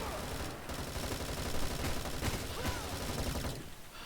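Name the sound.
gunfire in Bullet Force video game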